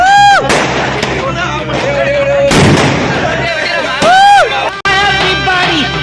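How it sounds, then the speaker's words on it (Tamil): Firecrackers bursting at a New Year celebration in Thanjavur, Tamil Nadu, with sharp broadband bangs at close range among excited shouting voices and crowd noise, several loud blasts spread across the moment. "பக்கத்துலயே வெடி வச்சிருக்கானீடா"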